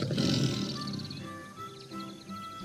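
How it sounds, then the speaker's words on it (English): A tiger gives a loud, close roar that swells at the start and rumbles through the clip, with a brief tonal call layered over it toward the end. "Tiger."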